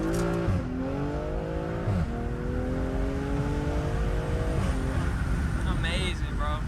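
A loud, throaty engine and exhaust of a tuned BMW M340i rev up through rising gear pulls, droning continuously and close by with a rough, aggressive tone.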